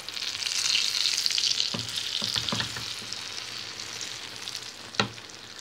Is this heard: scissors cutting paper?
no